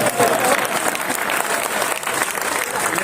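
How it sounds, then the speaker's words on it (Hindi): Dense, sustained applause from an audience, many hands clapping steadily and loudly throughout with a crowd murmur beneath. "अब मैं कहना चाहता हूँ, आप लोग बढ़िया ताली बजाना।"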